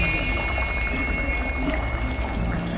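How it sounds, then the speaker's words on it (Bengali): Fish going into boiling water in a wok, a dense, steady bubbling and pouring rush heard up close, loud and unbroken throughout. "কড়াইটা জলটা দেওয়ার পরে ফুটছে, এবার আমি এর মধ্যে মাছগুলোকে ছেড়ে দেবো।"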